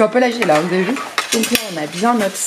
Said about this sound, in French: pardon pour le bruit, hein, mais parce que vu que c'est sur ma plaque en verre